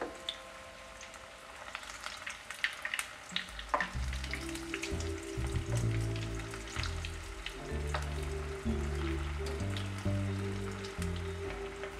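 Potato lollipops fry in oil in a pan, giving a continuous close sizzle and crackle that grows busier halfway through, with faint clinks and no talking.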